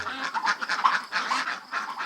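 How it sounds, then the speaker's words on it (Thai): Laying ducks on a free-range farm quack in a rapid, overlapping chorus of short nasal calls, fairly close and moderately loud, with no talking over them. "เป็ดมีพื้นที่อิสระไม่ถูกขัง จึงเป็นเป็ดไข่อารมณ์ดี มีคุณภาพ"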